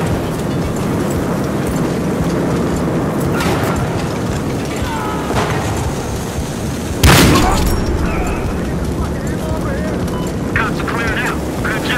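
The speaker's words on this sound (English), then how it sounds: "Gas grenade, outgoing!" A gas grenade goes off in the police shooter Battlefield Hardline with a single heavy boom midway, over constant loud gunfire and rumbling game noise, with a character's voice calling out over the din.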